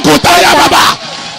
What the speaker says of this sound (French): Acclame le Seigneur très fort pour le Togo.